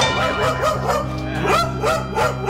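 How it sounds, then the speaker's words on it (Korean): A Sapsali dog barks aggressively at visiting guests in a family home, a continuous, loud run of yapping and whining barks with no break. "손님 오시면 저렇게 짖는 거죠?"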